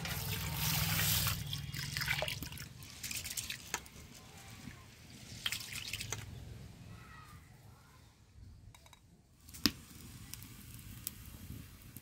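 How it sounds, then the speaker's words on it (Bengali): Rice grains rinsed by hand in a pot of water, giving soft intermittent trickles, drips and squishy swishing close by, with a brief sharper splash near the end; no talk. "চালটা ভালো করে ধুয়ে নেব।"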